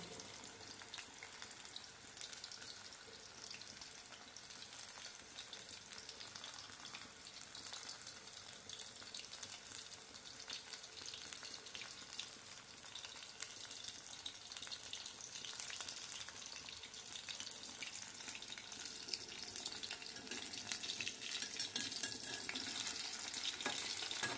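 Chicken pakodi frying in a pan, a steady quiet sizzle with faint crackle and stirring that grows slightly louder toward the end, with no voices.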